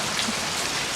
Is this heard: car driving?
no